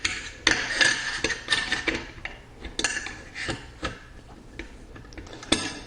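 Metal parts of a Mossberg 500 shotgun click and clack during reassembly, a string of sharp, close taps and snaps at an uneven rhythm with no talking.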